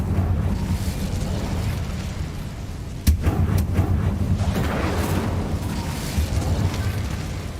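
A fiery spell cast in the video game Hogwarts Legacy: a sharp burst at about three seconds, then a dense roaring rumble that carries on under a steady backdrop of game effects, close and loud.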